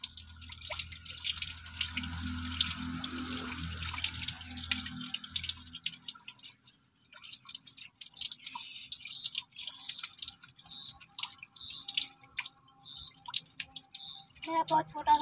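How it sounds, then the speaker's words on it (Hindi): Tap water runs and splashes into a sink as hands are washed, a steady close hiss and patter for the first half, then fainter drips and trickles, with a voice talking in the background. "हम धो रहे गाइस हाथ"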